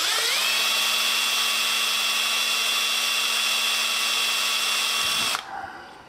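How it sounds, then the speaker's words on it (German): A power drill bores out a 2mm aluminium T-nut cleaner, whining at a steady high pitch for about five seconds before abruptly stopping, leaving faint rattling and room noise. "Wir werden uns das ganz einfach da ein wenig rausbohren"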